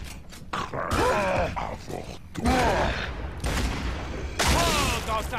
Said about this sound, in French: 3 balles de ce petit flingue, ça met à terre un boucher